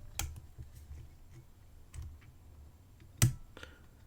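Small sharp clicks from pins set while picking a PacLock Pro 90A seven-pin padlock, a handful of quiet isolated ticks spaced irregularly, the last one slightly louder, with no voices during them.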